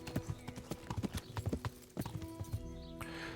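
Horse hooves clip-clop steadily in the medieval video game Kingdom Come: Deliverance, a fairly quiet, rhythmic trot of repeated hoofbeats with no talk over it.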